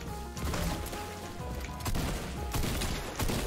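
Shotgun blasts in a competitive video game match, dense loud booming shots and crashes layered over constant game noise, close and continuous through the short stretch.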